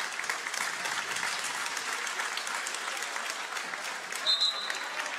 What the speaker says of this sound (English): a round of applause here from the crowd